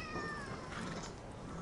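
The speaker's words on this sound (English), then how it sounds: "it's the yellow cat that Makita's parents are fostering" A yellow foster cat lets out a single short meow, fairly faint against steady background noise.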